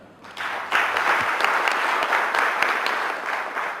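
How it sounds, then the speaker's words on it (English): Audience applause for a panelist being introduced at a drug abuse summit, a dense, steady round of clapping from a room full of people that swells quickly and holds for several seconds. "A round of applause for Sarah."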